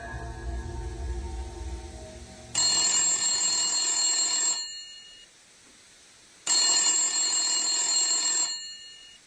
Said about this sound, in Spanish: suena el teléfono en el humilde apartamento